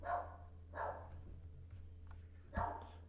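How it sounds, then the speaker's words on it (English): A dog barks in the background, three fairly faint, separate barks spaced over about three seconds against a low steady hum, with no talk. "Dogs barking."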